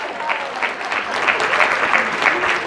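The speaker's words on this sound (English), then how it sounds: "Give her a round of applause" A room of attendees at a professional development training session gives a short, lively round of applause with distinct overlapping claps.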